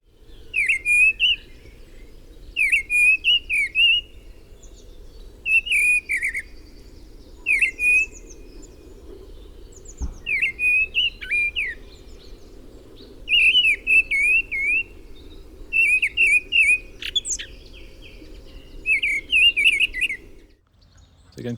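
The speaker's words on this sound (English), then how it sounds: "this is the mistle thrush" A mistle thrush sings in woodland, delivering short rich whistled phrases repeated at regular intervals, clear and fairly close over a low steady background hum.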